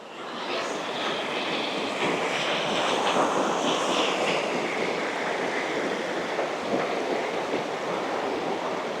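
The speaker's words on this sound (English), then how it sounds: "Got the stream here flowing down. It's probably glacier water from north of the snow pack." A glacier-fed mountain stream rushes steadily with a broad, even hiss of flowing water, loud and close, with no pauses.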